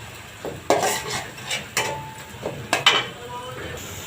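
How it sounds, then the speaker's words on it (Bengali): Onion frying until brown in a pan, heard mostly as repeated metal spatula scrapes and clanks against the pan with a faint sizzle underneath, a voice briefly audible. "পেঁয়াজটা একটু বাদামি করে ভেজে নিতে হবে।"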